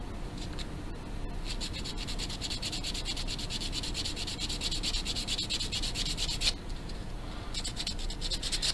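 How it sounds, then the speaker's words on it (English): Folded 320 grit sandpaper, worked like a file, rubs against a banjo nut from a travel banjo kit, producing a continuous close scratchy rasp of rapid back-and-forth strokes with a short pause near the end. "this is just some 320 grit sandpaper folded in half,"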